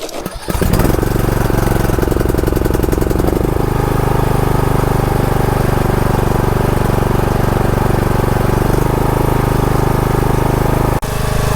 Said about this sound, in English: now we're going to try to start the lawnmower